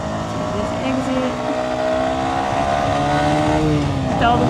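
A 125cc motorcycle engine revs hard while riding, its pitch climbing and falling in close, loud sweeps with steady road and wind noise underneath.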